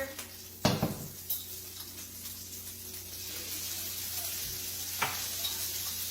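Minced garlic sizzles in sesame oil in a pan for beef and broccoli, a steady close hiss with a few sharp clinks of a utensil stirring against the pan.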